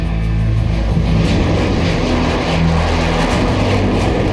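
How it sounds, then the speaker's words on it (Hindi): The HAL Tejas, a small, light Indian fighter jet, flies over the Republic Day parade on 26 January with a loud, continuous engine roar that stays steady and close throughout. "तेजस स्वदेशी लड़ाकू विमान है।"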